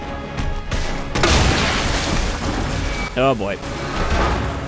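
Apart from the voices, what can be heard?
flashbang grenade exploding in Resident Evil 2 video game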